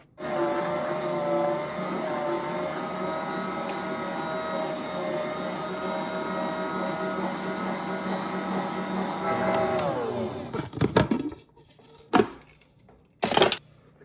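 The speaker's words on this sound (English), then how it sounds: "I'm gonna add it back in now and keep mixing." A stand mixer kneads sticky English muffin dough with reserved flour added back in, giving a steady loud motor whir that winds down near the end, followed by a few brief knocks.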